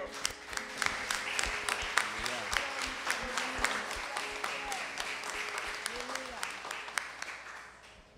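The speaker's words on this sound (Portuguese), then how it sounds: "Vamos aplaudir esse Jesus lindo." A church congregation applauds together at a special Christmas service, a dense, steady patter of many hands that carries on for several seconds while a voice continues over it.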